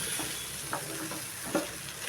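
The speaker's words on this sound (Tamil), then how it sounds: "வெண்டைக்காய் தான் வதங்கி வந்துடுச்சு." Okra is stir-fried in a pan, a soft, continuous sizzle broken by a couple of scraping stirs of the spatula, fairly quiet and with no speech.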